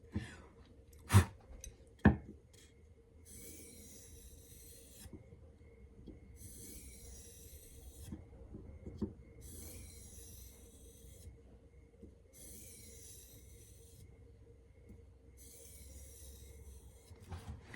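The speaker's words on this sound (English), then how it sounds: "Let's do a couple passes on the strop" A custom knife edge of 4V steel is drawn in repeated strokes along a Michael Richter leather strop, making five soft, evenly spaced rasping swipes, each about a second long, after two sharp knocks near the start, in a quiet room.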